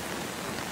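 Steady rain falls during Hurricane Florence in a Charlotte neighborhood near a lake, a dense, even hiss of drops on surfaces with no voices.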